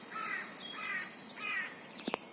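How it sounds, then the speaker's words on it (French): Small birds chirp in short bright bursts, three repeated warbling phrases spaced evenly apart, fairly close, outdoors beside a river on a kayak trip from Rennes to Saint-Malo, followed by two quick sharp clicks. "T'entends les petits oiseaux là?"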